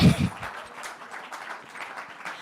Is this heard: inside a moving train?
no